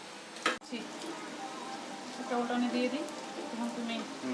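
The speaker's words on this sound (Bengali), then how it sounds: "এরকম দুগুণ তেলে ফ্রাই করতে হবে" Mughlai paratha frying in a generous amount of hot oil, a soft, steady crackling sizzle running under a person talking, with a sharp clatter near the start.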